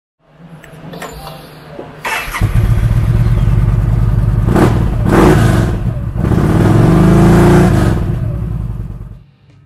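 Loud, close engine of a 2015 Yamaha XVS1300 V Star 1300 Deluxe cruiser motorcycle, starting up, then revving in several swelling bursts over a steady idle before cutting off at the end.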